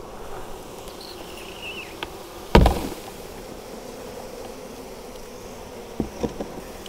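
Honeybees buzz faintly and steadily in the background, broken by a sharp knock partway through as a frame is struck to drop bees, and a few small taps near the end.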